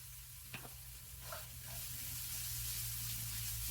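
Carrots with garlic paste, seasoned with salt and pepper, sizzle softly and steadily in a pan, with a few light stirring scrapes near the start.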